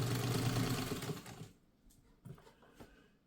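A Singer 66 sewing machine runs stitching for about a second and a half with a fast, whirring rattle, then stops, leaving only a few faint clicks and knocks.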